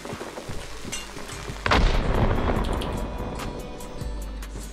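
A grenade explodes in a first-person shooter match: one loud, sudden boom followed by a rumbling decay, set against a steady background of game noise.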